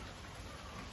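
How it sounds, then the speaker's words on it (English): Rain falls outside as a faint, steady hiss of drops, soft and continuous with no other sounds. "I don't know if you can hear in the background, it's raining."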